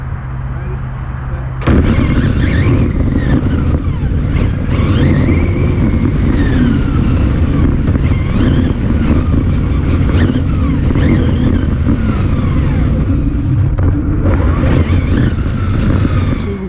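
Several RC cars race on a road course, among them an Exceed Mad Drift, an XTM XT2e and a Hobao Hyper 9E. After a short quiet start, a loud, continuous whine of electric motors holds for the rest of the clip, rising and falling as the cars speed up.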